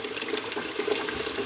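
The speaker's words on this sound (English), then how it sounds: "Warm soapy water." Warm water runs steadily from a tap into a sink, a continuous close splashing hiss with no pauses.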